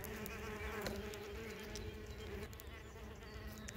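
Red mason bees chewing their way out of cocoons, with a steady close insect buzz and faint rustling that runs without a break the whole time and no talking.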